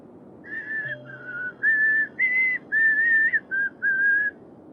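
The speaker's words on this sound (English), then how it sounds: "Can't whistle, but I was gonna try anyway while I did this." A person whistles a series of short, wavering notes of slightly different pitch, close and fairly loud, with a faint low background hum underneath.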